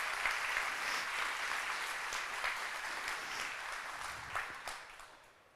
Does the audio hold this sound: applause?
yes